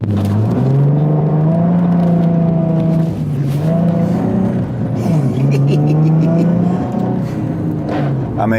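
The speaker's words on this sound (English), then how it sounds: "Traction control off, drift the corner." A car drifting around a corner on an empty coastal road with traction control off, its engine roaring loud and close with rising and falling revs and a whirring drivetrain, while someone speaks over it.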